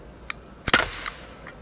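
A Daisy Powerline 5501 CO2 BB pistol fires a single sharp crack followed by a brief ringing hiss, with faint clicks before and after, close and otherwise quiet.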